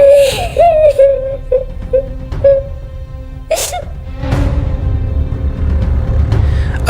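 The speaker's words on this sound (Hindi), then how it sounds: "पर अंदर से रोने की आवाज साफ आ रही थी।" A small child cries from inside a closed wardrobe: soft, broken whimpers and sobs come in short bursts, muffled and fairly faint, with a low rumble underneath and no talking.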